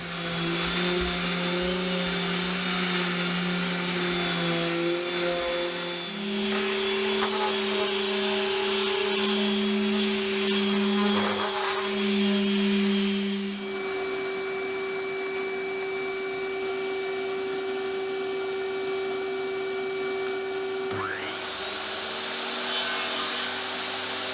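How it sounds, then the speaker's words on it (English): An electric sander works over wooden boards for a model railway layout in a small shed, giving a loud, steady high-pitched whirring drone whose pitch shifts several times before spinning down near the end, with no talking. "These just need a clean up now, so we'll get the sander out, we'll give them a clean up"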